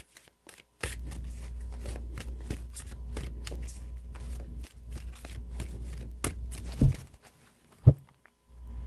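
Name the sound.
tarot cards being shuffled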